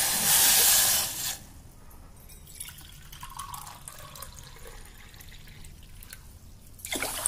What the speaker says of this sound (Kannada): ಮತ್ತೆ ನೀರನ್ನು ಅದಕ್ಕೆ 2 ಅರ್ಧ ನೀರು ಹಾಕ್ತೀನಿ.